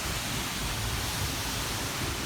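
An Icelandic waterfall roars close by from behind the falling water, a dense, steady hiss of crashing water with no pauses or voices.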